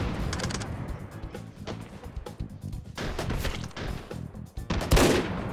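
Rapid gunfire rings out in the VR shooter Hot Dogs, Horseshoes & Hand Grenades, a close, loud string of sharp shots and bursts with a heavier blast near the end.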